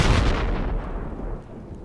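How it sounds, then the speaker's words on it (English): Mortar fire in the video game Project Reality, a single heavy boom with a long low rumbling tail fading over about two seconds, loud and alone. "So you can't stop mortaring."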